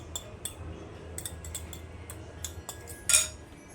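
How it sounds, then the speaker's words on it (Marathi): Eggs beaten with a spoon or fork in a bowl: faint, scattered metallic clinks and taps against the dish in an irregular rhythm, with one louder clink near the end. "हे अंडी सर्व फेटून घ्यायचे ह्या चमचा किंवा काट्याच्या साह्याने हे सर्व असं फेटून घ्यायचं"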